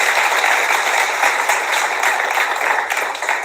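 A live audience claps in a steady, dense wash of applause that holds at an even level for several seconds.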